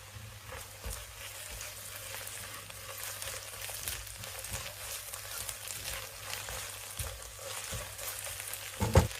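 Onions, green chillies and curry leaves sizzling in oil in a pan while a masala dish is cooked, a steady close crackling fry that continues throughout with occasional stirring scrapes and a brief louder clatter near the end.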